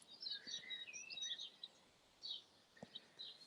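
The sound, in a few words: birds singing on a clear cool morning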